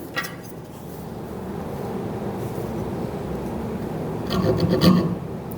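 A Veritas dovetail crosscut saw with 20 teeth per inch rasps through wood in quick short strokes, soft at first and then louder and denser near the end.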